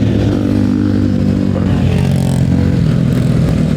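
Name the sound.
group of motorcycles riding, KTM motorbikes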